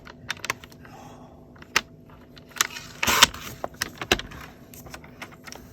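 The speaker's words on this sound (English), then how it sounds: "I put this piece on my trimmer. I cut off the wings, these sort of shaped bits," A paper trimmer slices through cardstock, cutting off shaped wing pieces, heard as a few close, quiet clicks and a sharper slicing scrape partway through, with no talking.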